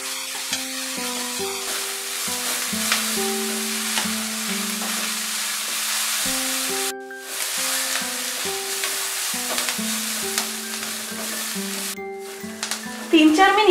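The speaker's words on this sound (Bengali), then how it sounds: "এবারে হাই ফ্লেমে এই ভেজিটেবলসগুলো আমি 3 থেকে 4 মিনিট ফ্রাই করে নেব।" Mixed vegetables fry over a high flame in a pan, a continuous sizzle with stirring scrapes running under steady tonal background music that briefly drops out twice.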